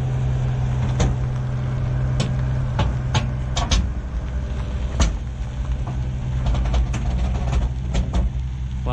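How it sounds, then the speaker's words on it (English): Heavy creaks and groans from mobile home axles crack out repeatedly over a low, steady engine rumble as a double-wide mobile home rolls along. "A lot of creaking and groaning."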